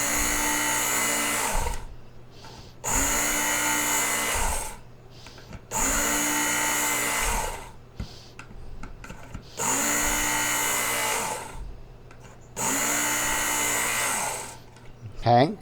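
Electric Work Sharp sharpener grinding the edge of a large knife in five steady bursts of high whining buzz, each a couple of seconds long, separated by quieter pauses with faint handling noises, close and loud.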